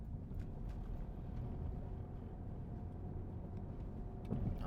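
A car accelerates during a driving lesson, heard from inside as a faint, steady low engine and road rumble with no voices over it.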